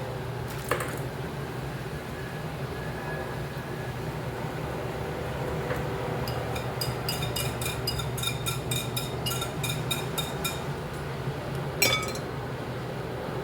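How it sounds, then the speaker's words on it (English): Metal whisk scraping sauce out of a glass jar, with a run of quick, bright glassy clinks and taps over a steady background hum, fairly close, no talking. "Just a whisk and make sure we get all of it scraped out."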